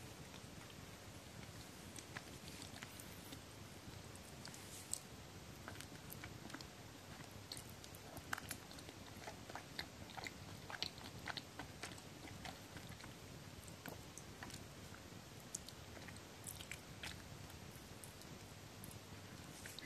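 Skewered dango from 7-Eleven chewed close up, a steady soft mashing and smacking with faint sticky clicks running throughout, no talking.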